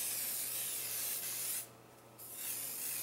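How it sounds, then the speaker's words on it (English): Sebastian finishing hairspray misted onto hair from an aerosol can: a soft, steady hiss that cuts off briefly and then sprays again, close by and quiet, with no voices. "Sometimes I'll take a bit of hairspray. I haven't used the Sebastian hairspray."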